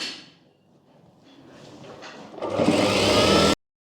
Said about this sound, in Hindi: अब यहाँ से बाहर की साइड से एक एक पहले सिलाई लगा लेंगे